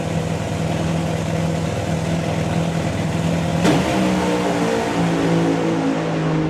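Drag racing car on the strip at an FIA FIM event, a loud sustained engine roar heard from a distance, with a sharp burst partway through as the pitch shifts and climbs on acceleration.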